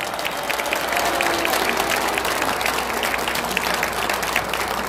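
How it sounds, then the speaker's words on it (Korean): A large crowd applauds steadily, dense clapping filling the room at an even, loud level throughout. "큰 박수를 한번 보내주시기 바랍니다"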